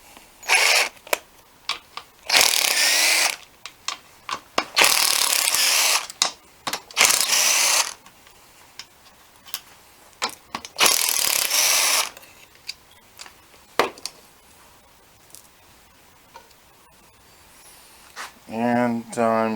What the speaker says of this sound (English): So we're going to pull these 4 screws out here.